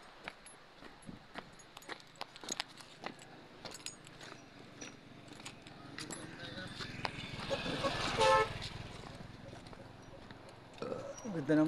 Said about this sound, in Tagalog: Ganda ng busina.